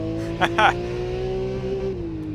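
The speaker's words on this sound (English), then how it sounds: "Bounce off the rev limiter" A Porsche sports car's engine holds a steady high note and bounces against the rev limiter. Two short bursts of voice or tire noise break in early, and the pitch drops near the end.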